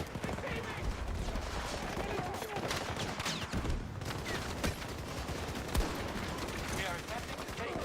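Constant rapid gunfire and explosions in the video game Battlefield 6 fill the whole stretch, dense and loud, with repeated bursts and thuds layered over a player talking.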